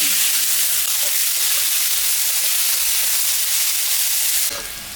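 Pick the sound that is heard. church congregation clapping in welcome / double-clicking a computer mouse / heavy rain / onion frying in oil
onion frying in oil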